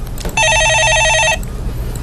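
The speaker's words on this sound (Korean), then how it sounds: "예, 전화 받아보겠습니다." A telephone on a stock-market call-in broadcast gives one loud, trilling electronic ring lasting about a second, then it stops, leaving a low background hum.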